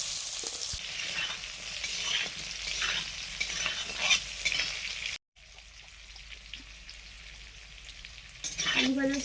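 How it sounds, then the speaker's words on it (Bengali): Potatoes and Malabar spinach stems fry in a pan, with a steady sizzle and bright crackle, occasional stirring scrapes, a brief dropout midway and a louder burst of stirring near the end. "আলু পুঁইডাঁটা ভেজে নিচ্ছি"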